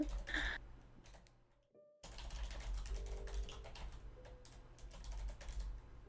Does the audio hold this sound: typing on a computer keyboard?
yes